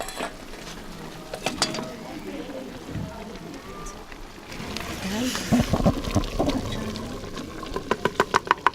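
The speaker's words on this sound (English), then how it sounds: "then she's gonna fry it with some onions, some celery, and some tomatoes" Pork fries in a pot over a village cooking fire in rural Rwanda with onions, celery and tomatoes, with bubbling, stirring and scraping, then a run of rhythmic clinks against the pot as voices talk nearby.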